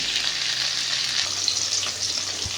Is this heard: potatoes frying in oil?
yes